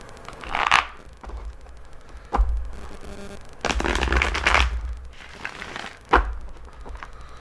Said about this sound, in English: Okay, I'm going to shuffle and cut the cards.